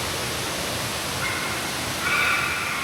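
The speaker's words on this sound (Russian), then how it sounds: "Шумит водопад." Steady broadband roar of a waterfall in a remote spot in the Dominican Republic, a continuous wash of rushing water with no pauses, filling the whole clip evenly at moderate distance.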